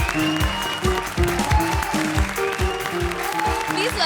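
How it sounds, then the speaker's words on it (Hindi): Audience applause on a Hindi comedy show, steady clapping held for about four seconds with loud rhythmic music and drum beats playing over it. "जोरदार तालियां"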